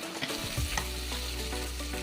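Three large mashed, chopped onions fry steadily in butter in a pan, a dense continuous sizzle with occasional stirring scrapes throughout, no voices.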